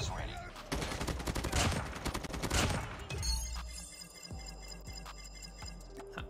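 Burst-fire rifle shots from Call of Duty Mobile, a dense rapid volley of gunfire with short bursts and game effects, loud and close, fading into quieter clicks and ticks toward the end.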